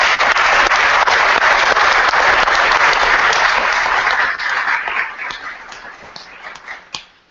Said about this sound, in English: I want to give a round of applause for them